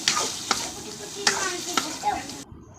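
Potatoes and egg frying in a pan while being stirred, a steady sizzle broken by several sharp scraping stir strokes, close and moderately loud, with no talking.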